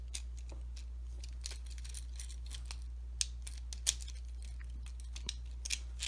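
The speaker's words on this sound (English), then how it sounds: "That should click into there." Small plastic parts of a Transformers Studio Series Deluxe Class Dropkick figure snapping into place, a scatter of faint, sharp clicks spread irregularly over a steady low hum.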